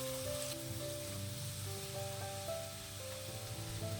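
Ash gourd frying in ghee in a pan for kashi halwa, a steady close sizzle with a faint tonal hum running underneath.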